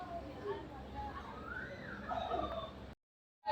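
Poultry of the Rasangi Kuppureja breed calls out in a few rising, warbling clucks close by, against a steady low background hum, before a brief cutoff near the end.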